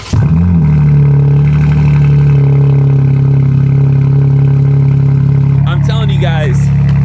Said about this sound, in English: let's get a cold start, like an actual cold start.